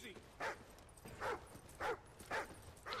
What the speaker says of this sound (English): Stop fucking barking!